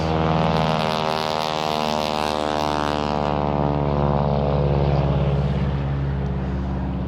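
A loud propeller airplane drones steadily overhead at a cemetery, its engine hum swelling and then slowly fading as it passes; no one speaks.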